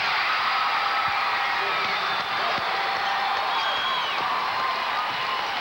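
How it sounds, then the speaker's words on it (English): A high school basketball crowd in Peoria, at the 1989 Illinois boys Class AA championship game, roars and applauds in a continuous loud wash after a score, while an announcer talks over it. "And the Peoria crowd"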